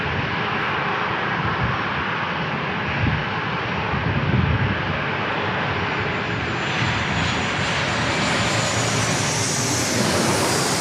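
An airliner arriving at San Diego International Airport gives a continuous broad engine roar that holds steady and loud, with a high hiss swelling toward the end.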